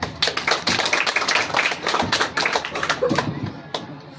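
An audience at a quiz competition applauds with a dense burst of quick, rapid claps at moderate loudness that carries on evenly and fades slightly at the end.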